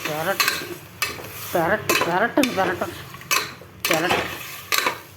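Metal utensils scrape and clatter against a pot of mutton in repeated bursts while it sizzles faintly underneath, with a voice speaking between the stirs.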